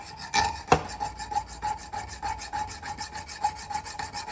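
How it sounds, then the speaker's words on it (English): A small blue plastic spacer from a 4L60E transmission is rubbed back and forth on a flat file held in a vise, producing a rhythmic close scraping after a couple of sharp clacks. "So I've just got to take out this little blue spacer and flat file that down a little bit."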